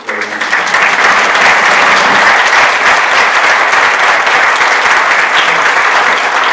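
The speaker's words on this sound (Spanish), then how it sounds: "démosle un fuerte aplauso a Óscar." Loud, full crowd applause for the author Óscar at a book presentation at the FIL Minería book fair, rising quickly and staying dense and sustained for over six seconds with no talking.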